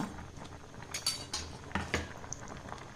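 A metal spoon scrapes and clinks against a cooking pot while masala powder is stirred into Udupi-style mattu gulla curry, giving a few sharp close taps over quiet low bubbling, with no talk.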